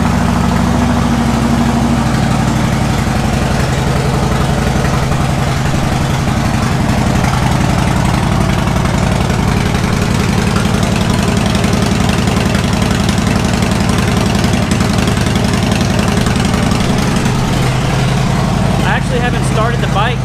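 A Harley Wide Glide motorcycle engine runs at idle after being started, a loud, close, steady low rumble with a pulsing beat that holds throughout.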